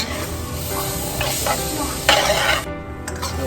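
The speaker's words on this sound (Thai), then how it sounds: "ผัดกันแห้งๆแบบนี้นะคะ" Taco filling with onions being stir-fried in a pan, a steady close sizzle with scraping stirs and a few louder spatula strokes against the metal, no voices.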